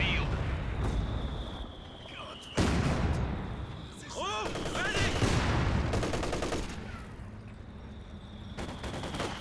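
Mortar and artillery fire in the World War II strategy game Company of Heroes 2, a series of sharp blasts and rumbling impacts at irregular intervals, with crackling explosions layered over a low battlefield din.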